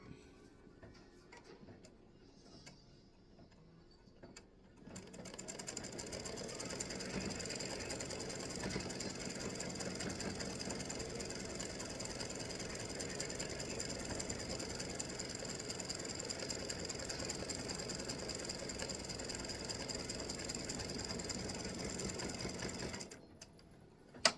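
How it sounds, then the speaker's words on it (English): Embroidery machine stitching a free-standing lace acorn earring loop: a fast, steady mechanical needle rattle starting abruptly after a quiet moment and running evenly for about eighteen seconds before stopping. "now I'm going to stitch the loop"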